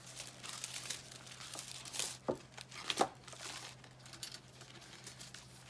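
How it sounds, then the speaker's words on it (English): A sheet of paper is handled at a papercraft table, with soft crinkling and two crisp rustles standing out about a second apart in an otherwise quiet room. "Let me grab a piece of paper real quick."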